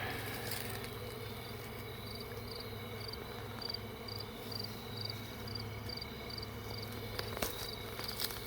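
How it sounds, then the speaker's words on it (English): Honeybees at a hive just after a varroa mite treatment hum in a steady, dense drone that runs unbroken throughout, fairly close and even in loudness, with no talk over it. "All them bees on top, they'll make their way back down."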